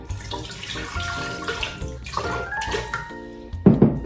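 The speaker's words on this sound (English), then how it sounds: "So I'm gonna add the water to the blender." Water splashes and gurgles steadily into a container for a few seconds, with a louder burst of pouring near the end.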